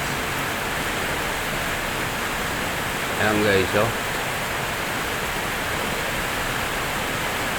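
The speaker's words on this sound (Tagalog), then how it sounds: "Ayan nyo, ang ulan, lakas." Heavy rain pours in a steady, dense broadband hiss throughout, with someone briefly speaking over it midway.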